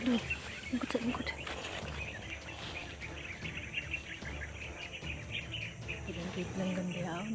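Many wild birds chirp and call in a forest, a busy layer of faint tweets and calls under low background noise, with a few louder bursts.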